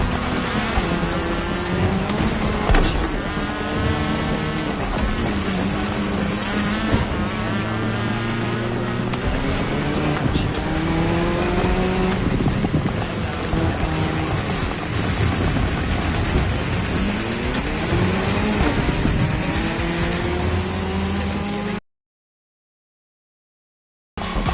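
Race cars driving on tarmac during a Red Bull cross-terrain race, engines roaring loudly and continuously with rising and falling revs, then cutting to silence near the end.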